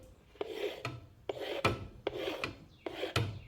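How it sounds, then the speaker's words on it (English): A wooden mixing stick scrapes repeatedly against the side of a paint mixing cup, four distinct rasping strokes in a steady rhythm, close and fairly quiet with no talk. "Just scrape it on the side of the cup."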